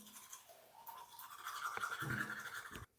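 A toothbrush scrubs teeth close up, a steady wet bristly brushing that builds in the middle and stops abruptly near the end, with no talk over it.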